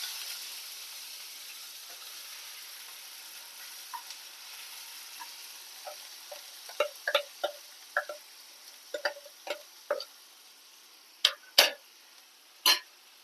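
Onion frying in oil in a pan for a fenugreek-leaf tomato curry. A faint, steady hiss runs under it, and sharp pops and crackles grow more frequent and louder toward the end.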